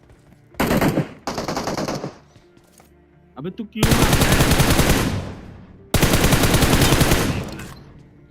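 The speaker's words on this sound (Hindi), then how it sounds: "पीछे की साइड से हम पे फायर आया" Rapid automatic gunfire in a battle royale video game comes in several long, loud bursts, with short pauses between them and a brief exclamation from a player.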